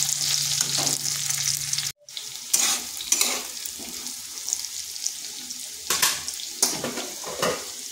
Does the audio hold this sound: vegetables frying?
yes